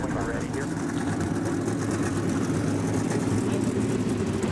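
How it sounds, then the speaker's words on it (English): Many race car engines rumble together in the NR2003 video game, an IROC Series field on the grid at Talladega, a steady low drone throughout with a voice talking over it. "our 11-car field fires their engines up, and we're rolling off the starting grid"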